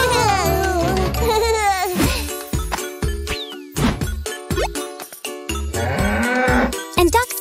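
Cartoon cow moos in a children's animal-sounds song, long lowing calls riding over a bright, rhythmic backing track with tinkling bells and clear pauses between beats.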